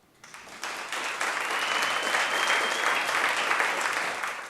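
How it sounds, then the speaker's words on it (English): An audience at a PTA annual awards celebration breaks into applause, starting quietly and swelling within a second into a full, sustained round of clapping that holds steady to the end. "I think we need just one more round of applause, right?"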